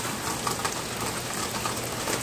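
Rain falls steadily during a storm in Austin, Texas, making a dense, even hiss close by that runs unbroken from start to finish with no voices.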